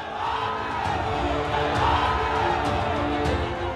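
A large crowd at an election rally roars in a continuous, dense wall of voices and cheering, heard from a distance with no breaks in the noise.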